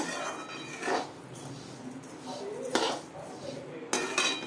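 Raw rice dry-roasted in a pan, stirred with a metal utensil that scrapes and clinks against the pan in a few distinct bursts over a quiet, steady background.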